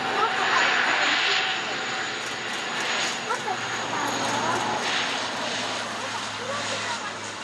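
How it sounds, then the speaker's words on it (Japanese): Propeller airliners from JAL and ANA pass at an airport in the rain, a loud steady engine drone with rain hiss throughout, while a person speaks over it. "プロペラ連続で来た"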